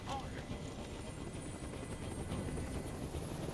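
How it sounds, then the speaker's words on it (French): A video game helicopter's steady rotor chop thrums throughout, loud and close, with a faint voice underneath, in Detroit: Become Human. "Je peux plus supporter ce bruit. Fais dégager cet hélicoptère"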